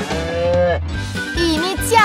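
A cow moos loudly and close by, with long harmonic calls rising and falling across two seconds, heard on its own with no talking.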